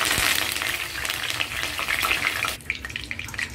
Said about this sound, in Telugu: ఇగోటి కాస్త ఆయిల్ అయితే వేసుకున్నాను, కళాయిలో మరుగుతుంది.